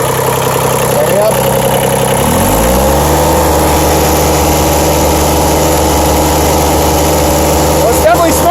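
A 1993 Toro Groundsmaster 325D diesel mower engine idles steadily and loudly up close, smoking heavily, with a steady low drone that settles after a brief shift in pitch, and a voice speaks over it.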